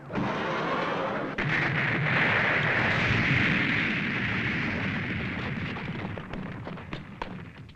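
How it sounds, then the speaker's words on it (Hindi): Animated cartoon missiles blasting into holes, a dense continuous roar of explosions and rumbling thuds that stays loud throughout, with sharper bursts scattered near the end. "इन होल्स पर मिसाइल फेंकता हूं।"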